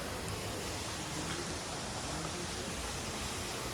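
Water flows out from beneath a spring at Lonar lake, a steady, dense rushing wash like a small stream or cascade, close and continuous with no pauses and no talk.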